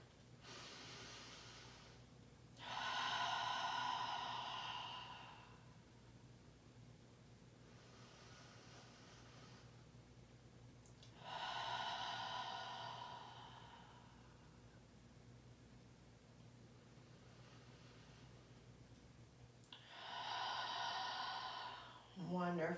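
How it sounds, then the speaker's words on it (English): Deep yoga breathing: three big, slow breath cycles at even intervals, each a long airy inhale followed by a sighing exhale, close and fairly soft, with quiet room tone between them. "Let's take 3 big inhales and then sigh it out on the exhale."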